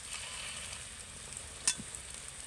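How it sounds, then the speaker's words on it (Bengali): A flat egg frying on both sides in a pan for cutlets sizzles faintly and evenly, with one brief spatula tap partway through and no speech. "ডিমটার দুটো পিঠই কিন্তু এইভাবে ভেজে নিতে হবে।"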